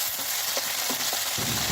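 Tomato pieces fry in a pan with onions, green chillies and curry leaves for a ridge gourd chicken curry, a steady close sizzle with a few soft stirring scrapes and no talking.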